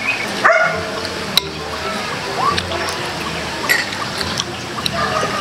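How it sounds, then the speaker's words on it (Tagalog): A dog barks a few times at a distance amid outdoor background noise, with sharp clattering sounds mixed in. "Pasensya sa aso na umaaw-aw"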